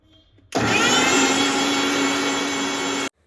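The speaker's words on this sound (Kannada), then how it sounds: "ಒಂದು 6 ನಿಮಿಷ ಮಿಕ್ಸಿಲಿ ಚೆನ್ನಾಗಿ ರುಬ್ಕೋಬೇಕಾಗತ್ತೆ" A kitchen mixer grinder whirs loudly after a sudden start, grinding a spice paste with soaked tamarind, then cuts off abruptly after about two and a half seconds.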